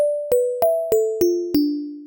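Nord Drum 3P using FM synthesis for marimba and vibraphone type tones: six clean mallet-like strikes at an even pace, each a bright attack ringing into a sustained pitched tone, stepping down in pitch across the sequence, close and alone.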